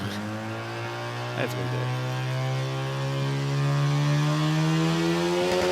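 A Toyota Corolla in the Modified Compact drag racing class launches hard at a drag strip, its engine note climbing steadily and loudly, with a commentator talking over it.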